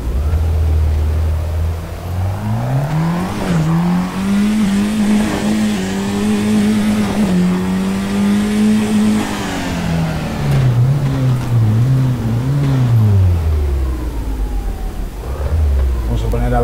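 A Citroen C4 WRC rally car in the Assetto Corsa racing game revs hard through the gears with the turbo at full, a loud, close engine note climbing and dropping across gear changes, with speech over it.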